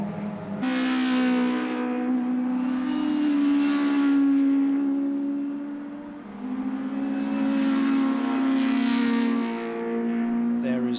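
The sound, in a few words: Formula Junior race cars including a Lotus 20 racing at Donington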